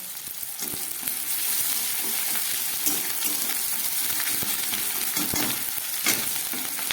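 Ginger garlic paste sizzles and spits in hot oil, a loud, steady frying hiss with a few sharp crackles and stirring scrapes, with no voices.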